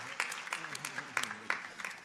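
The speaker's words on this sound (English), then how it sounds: "It's kind of a rolling applause now, right?" Rolling applause from the audience at Harvard Class Day 2023, a quiet, distant patter of scattered claps swelling and fading in waves.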